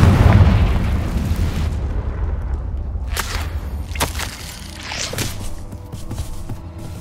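Confringo fire spell blasts in the video game Hogwarts Legacy: a loud booming explosion with a rumbling tail, followed by several sharp whip-like bursts and crackles, close and prominent.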